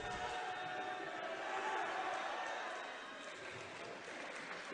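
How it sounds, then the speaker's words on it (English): Crowd noise at a university men's basketball game between Bishop's and McGill, a broad steady wash of cheering and applause rising and lingering for several seconds after a free throw, with voices mixed in. "Lee definitely hears the crowd and he's responding to them"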